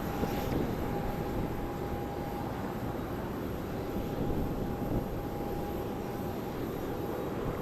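A Spirit Airlines jet in Skittles livery arrives at Charlotte Douglas airport on a windy day, a steady loud roar of engine and wind noise holding throughout with a faint high whine.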